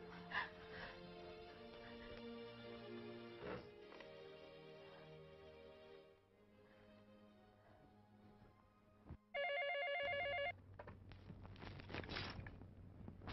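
A telephone rings in a short electronic burst after a stretch of music and background noise, loud and close, then stops.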